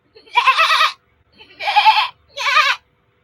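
A person imitates a baby goat, giving three high-pitched, wavering bleats close to the microphone, each about half a second long and separated by short pauses.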